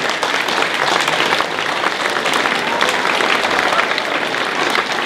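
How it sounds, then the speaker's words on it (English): Parents at a school spring concert applaud in a packed room: loud, continuous, even clapping that holds steady throughout, with a faint crowd murmur mixed in. "We'd like to applaud you all"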